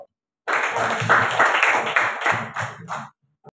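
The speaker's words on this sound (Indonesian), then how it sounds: "Tepuk tangan dulu." A room of teachers at a coaching training session bursts into a burst of hand clapping lasting about two and a half seconds, dense and close, tapering into a few final claps.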